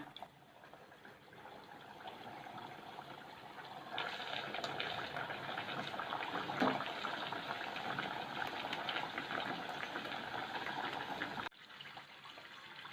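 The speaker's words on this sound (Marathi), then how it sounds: "आता आपण बाकीच्या पण कचोऱ्या फ्राय करून घेऊया" Kachoris deep-frying in hot oil over slow to medium gas, a steady close hiss and bubbling sizzle that strengthens after a few seconds and holds without speech, then drops off near the end.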